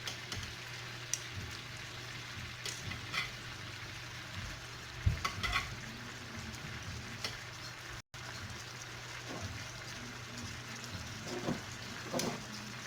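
Lamb sizzles quietly in a pan of piccata sauce as it thickens, a soft, steady crackle and bubble with occasional louder pops and stirring scrapes, no talk.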